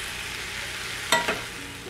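Potato curry with spices cooking in a pan gives a steady soft sizzle, broken near the middle by two quick louder scrapes of stirring, with no voices.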